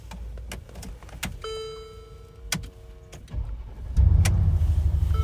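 Clicks and a whirring electric window motor, then a car engine cranks and starts about four seconds in, settling into a low rumbling idle.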